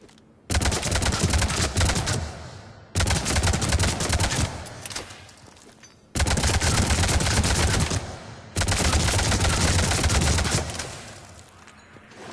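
Avenger assault rifle in Mass Effect 3 fired at short range in four long, loud sustained bursts of rapid automatic fire, each lasting a couple of seconds with brief pauses between.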